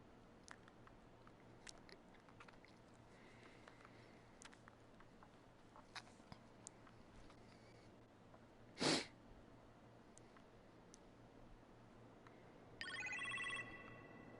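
A telephone ringing in the kitchen within the Iron Man VR video game: a brief burst of ringing near the end, heard over a quiet low game ambience with a loud short thump midway.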